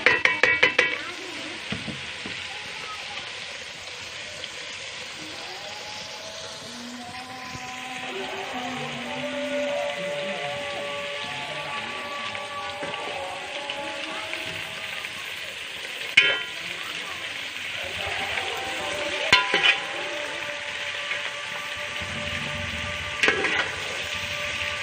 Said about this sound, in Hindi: ये हमारी भिंडी तली जा रही है।